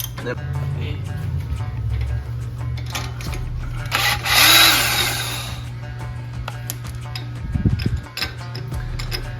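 Wrench work on the steering stabilizer of a 2014 Jeep Wrangler: scattered metallic clicks and ticks over a steady low hum, with one louder rasping burst midway and a sharp knock near the end.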